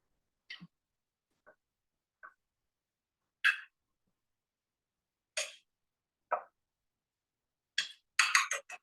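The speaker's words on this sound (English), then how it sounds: "I'm just gonna stir a little bit more." A spoon works through a casserole mixture of sautéed vegetables for tailgating food, giving faint, scattered clinks and scrapes spaced a second or more apart, then a quicker cluster at the end, with no talking.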